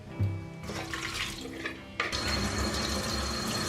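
Cold tap water runs steadily into a sink as softened seaweed is rinsed in a kitchen, a close, continuous splashing that grows fuller and louder partway through.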